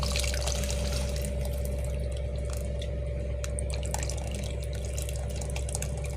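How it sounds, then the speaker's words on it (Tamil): Dissolved tamarind water poured into a fish curry makes a steady, close trickle and splash of liquid that runs on without pause and with no voices. "இப்போ இந்த புளி ஊற்றிக்கலாம்."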